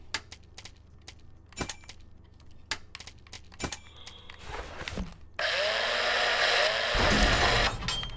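Sharp clicks and knocks, then a broken mechanical drill in the space survival game Breathedge whirs up loudly and runs steadily for a few seconds before cutting off, like a game sound effect.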